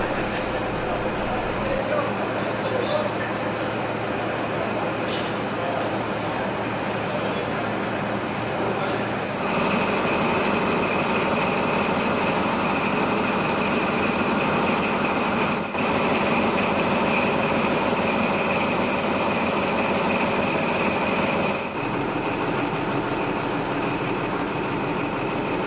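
Steam locomotive 45407 arriving into platform 1 at a station, a continuous rumble of rolling train and engine noise that shifts and grows louder partway through, with a voice speaking over it.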